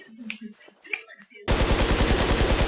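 Rapid automatic gunfire from a Thai-played match of the Infestation shooter game, a loud sustained burst that erupts after a stretch of quiet talk and scattered softer sounds.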